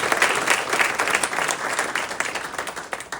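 Lively applause fills the room at a girls' tennis team banquet, many hands clapping together in a close, steady burst with faint crowd murmur underneath.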